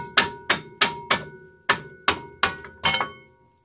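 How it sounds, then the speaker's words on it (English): A mallet gently taps around the edges of a Mercedes parking brake drum to loosen it from the hub, about nine sharp ringing metallic knocks at a steady pace, close and loud, each decaying briefly, with no talk. "So just gently with your mallet, tap all the way around these edges here."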